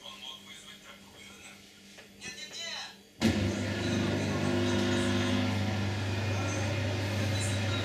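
An Atlant washing machine starts its rinse cycle after being switched back on, a sudden steady motor hum and churning drone that begins partway through and continues loud and constant, following quieter room noise with a voice.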